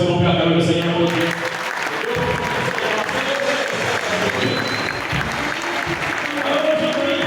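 Audience at a church youth conference applauding steadily and fairly loud throughout, a dense wash of clapping with crowd noise and some voices mixed in.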